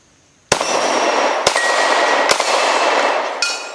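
Three sharp metallic clangs from bullets striking steel plate targets at a shooting range, fired with a Glock 27 Gen 4 pistol, spaced about a second apart over a steady outdoor background, with a fainter fourth ring near the end.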